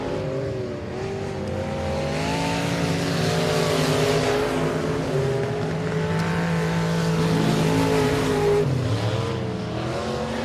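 Race car lapping Boothill Speedway during time trials, its engine roaring loud and close with rising and falling revs and shifting pitch as it runs the track continuously.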